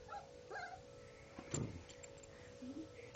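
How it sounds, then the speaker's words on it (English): Small puppies yip and whimper in a few quick, thin cries, fairly faint, with some soft thumps and low room noise around them. "That puppy's gonna get you, Bear."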